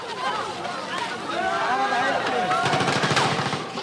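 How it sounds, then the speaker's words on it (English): Gunfire rings out in Gaza as Hamas fighters in a crowd return fire, rapid bursts of shots late on, mixed with loud shouting and crowd voices throughout. "Hamas fighters come amongst the crowd and return fire."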